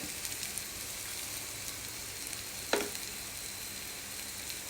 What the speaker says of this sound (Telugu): చిన్న టీ స్పూన్ మెంతి పౌడర్ వేయించి